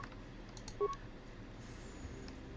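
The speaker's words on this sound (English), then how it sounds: "Please ignore my phone." A phone sounds during recording of the video game Star Wars Knights of the Old Republic II, giving a single short two-tone beep, faint over a quiet background hum.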